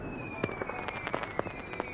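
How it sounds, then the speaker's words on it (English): Fireworks burst in the sky as a rapid series of soft popping cracks, spaced unevenly over a sustained tonal hum in an abandoned-building scene. "Suddenly, fireworks explode in the sky."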